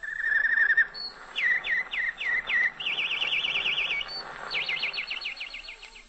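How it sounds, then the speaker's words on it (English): A canary sings on a 1943 wartime radio broadcast, giving bright, rapid trills, warbles and repeated chirps in quick bursts for several seconds, clear and alone with no talking. "One sound that always reminded me of home was the canary bird."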